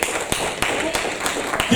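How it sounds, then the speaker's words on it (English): Congregation in a church clapping hands in a steady rhythm, roughly three claps per second, mixed with voices and background noise. "Keep clapping your hands and celebrate Jesus"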